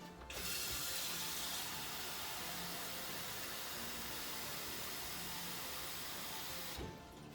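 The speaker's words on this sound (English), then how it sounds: "let's go put some water into it." Tap water gushing steadily into a cooking pot, a continuous close rushing noise that starts abruptly and cuts off near the end.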